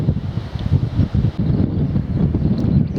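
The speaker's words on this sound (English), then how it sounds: "Wind's already starting to pick up" Strong coastal wind on the cliffs between Folkestone and Dover, a steady low roar with gusty buffeting against the microphone, loud and continuous throughout with no voices.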